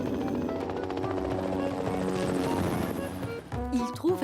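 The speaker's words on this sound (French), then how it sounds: "Un hélicoptère apparut dans le ciel bleu." A cartoon helicopter appears in the sky, its rotor chopping in a fast, steady pulse with a mechanical whine under a bright music score, before a voice speaks over the end.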